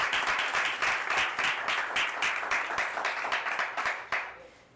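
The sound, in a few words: congregation applause in church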